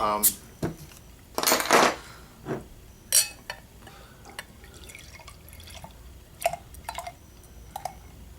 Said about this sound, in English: Okay, poured it fairly aggressive, about a finger's worth of head.